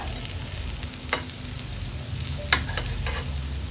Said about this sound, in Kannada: ಇವಾಗ ಉಲ್ಟಾ ಮಾಡಿ ಫ್ರೈ ಮಾಡ್ಕೊಳ್ಳೋಣ